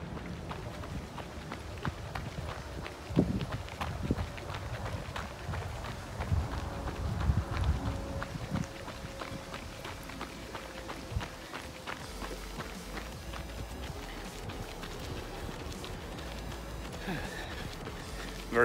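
Running footsteps outdoors in Saucony Ride ISO 2 shoes, a steady rhythmic patter of strides on a trail under a windy rustle, continuing throughout with a few louder thuds.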